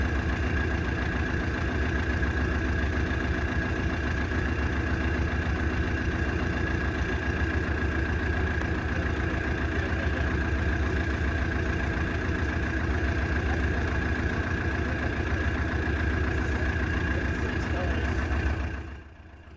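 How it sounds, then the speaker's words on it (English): A forklift's diesel engine idles steadily and close by with a continuous low rumble and throb, lasting nearly twenty seconds before dropping away at the end; speech may be faintly present. "take a listen to this forklift. Who can guess what type of diesel engine this thing has in it?"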